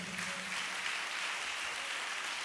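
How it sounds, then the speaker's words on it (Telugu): Congregation clapping together in a church service, a steady dense wash of hand claps that fills the whole stretch at a moderate, slightly distant level. "చప్పట్లు కొట్టాలి గట్టిగా."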